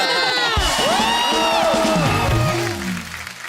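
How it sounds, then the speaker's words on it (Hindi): Studio audience at a comedy talk show cheering and whooping, with shouts and cries rising over a crowd roar that fades toward the end. "वैसे एक बार टाइगर के लिए जोरदार ताली"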